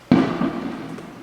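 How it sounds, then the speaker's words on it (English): A single firework bursts outside with a sharp boom that fades into a rumbling tail, heard alone at moderate loudness. "And people are still setting off fireworks."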